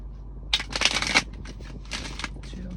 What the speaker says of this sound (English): 2 more shuffles, okay.